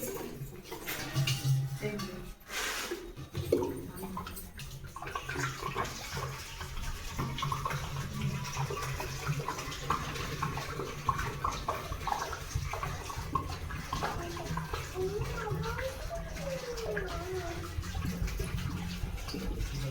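Water poured out during a Hindu puja at a house's main doorway threshold, a steady splashing flow running for about twenty seconds with faint background sounds.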